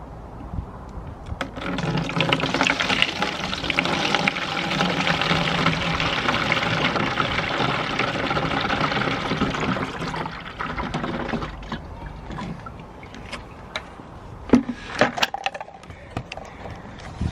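Homemade liquid fertiliser glugs through a funnel into a container, a steady close pour lasting several seconds before it thins to trickles and then drips and light knocks.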